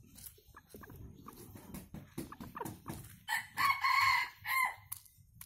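A Sumatran red junglefowl rooster, eight months old, in a cage lets out a loud, clear crow near the end, after quieter clucks and bird noises, with no talking.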